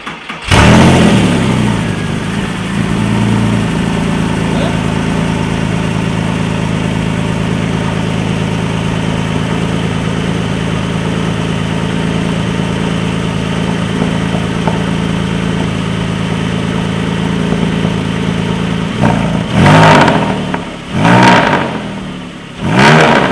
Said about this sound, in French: on va assister au premier démarrage de la 997